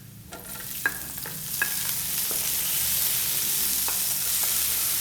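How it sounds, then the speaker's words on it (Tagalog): Garlic sautés in a hot pan with a steady, loud sizzle that builds and fills the clip, broken by a few sharp clinks of a utensil stirring against the pan early on. "Nagigisa tayo ngayon ng bawang."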